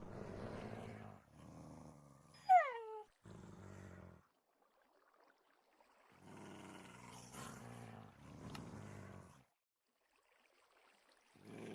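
An animal growls in several low, rumbling bursts separated by pauses, fairly quiet, with one short higher-pitched whine in between.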